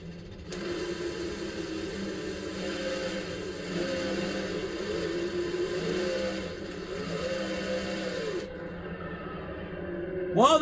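Drag race cars launch in an NHRA drag racing video game, a steady droning engine roar with shifting tones for several seconds that cuts off abruptly near the end.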